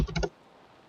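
A few quick computer keyboard keystrokes typed into Minecraft chat, close and crisp, then a brief near-silence.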